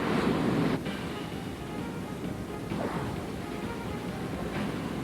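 Ocean waves surge and crash continuously in an animated action show, a loud, full wash of surf with wind noise and no talking over it.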